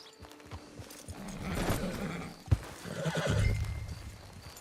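A horse whinnies loudly in Red Dead Redemption 2 online, followed by a sharp thump and the clatter of hooves, with a steady outdoor ambience underneath.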